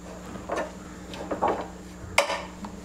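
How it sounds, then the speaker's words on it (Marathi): A spoon clinks and scrapes against a pan while stirring spiced moong dal stuffing for kachori, with scattered irregular knocks and one sharper metallic clack near the end, close and moderately loud. "मसाले चांगले मिक्स करून घेते मी आता ह्याला"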